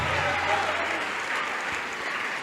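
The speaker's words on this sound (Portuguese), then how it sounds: "Vamos aplaudir ao Senhor por isso." A church congregation applauds during a worship program, a thick and even wash of clapping from many people that continues through the whole short stretch.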